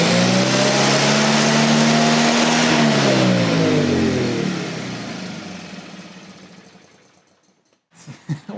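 A Miller Bobcat generator welder engine runs at a high, whining rev, then winds down and fades out, ending with a few brief knocks.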